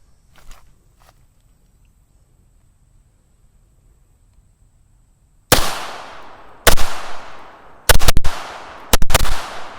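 A case-hardened Browning Hi Power pistol fires four loud, close shots, the last two in a quick pair, each sharp crack trailing off into a short echo. Faint handling clicks come before a quiet pause.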